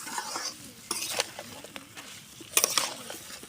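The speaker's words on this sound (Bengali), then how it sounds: "সব শেষে কচু দিয়ে এভাবে মশলার সাথে ভালো করে মিক্স করে নিলাম" Taro being stirred with spices in a cooking pot, a spoon scraping and clinking against the metal at irregular intervals over a soft sizzle, with a louder pair of scrapes near the end.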